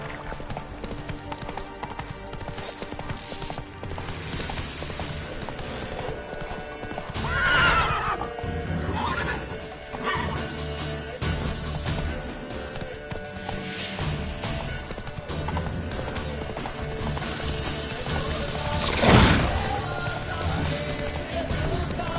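Roach, the horse in The Witcher 3 on PS5, gallops with steady rapid hoofbeats and snorts over a dense background of game sounds, with a sharp loud burst near the end.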